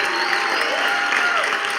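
Steady applause from a church congregation during an Easter resurrection service, a dense continuous wash of clapping hands sustained throughout, with no talk over it.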